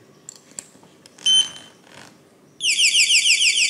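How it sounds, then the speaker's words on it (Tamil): An anti-theft backpack alarm starts beeping after a few rustles and clicks, a loud, rapid electronic warble that sounds close by and continues without a break. "இது யாராவது நம்ம பேக்குள்ளேருந்து இதை ஏதாவது எடுக்கணும்னு சொல்லி முயற்சி பண்ணாங்க அப்படின்னா ஆன் த ஸ்பாட் வந்துட்டு அலாரம் அடிக்க ஆரம்பிச்சிடும்"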